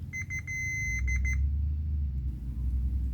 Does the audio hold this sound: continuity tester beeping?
yes